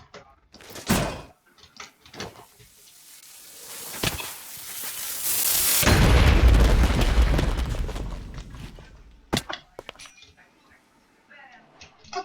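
A deep, rumbling Minecraft explosion swells and roars for several seconds, framed by sharp thuds and bangs before and after, with voices nearby.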